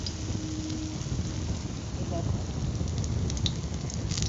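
Flattened spoonfuls of onion fritter batter fry in very hot oil, giving a steady loud sizzle and crackle, close by, with no talk.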